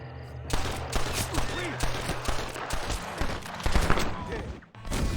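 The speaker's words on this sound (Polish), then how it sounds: "użyję 2 wystrzały" Gunfire in Red Dead Redemption on PS4: a burst of several quick shots up close, mixed with other game sounds and a voice talking over them.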